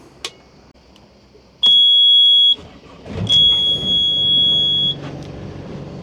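A sailboat's inboard engine on a calm crossing in Croatia, with two sustained high warning beeps as it is switched on, followed by a steady low rumble from the running motor close by.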